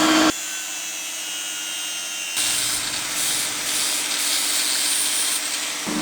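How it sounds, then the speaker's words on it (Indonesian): An angle grinder strips old paint from a Satria two-stroke motorcycle frame, a loud continuous grinding whine whose pitch and intensity rise partway through as the disc bites harder. "harus digerinda dulu karena beberapa bagian ada yang masih ada catnya"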